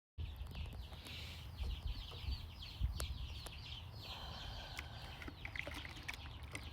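A nuisance male rooster clucking and crowing in a farmyard, a steady stream of raspy calls at moderate distance over rustling background noise.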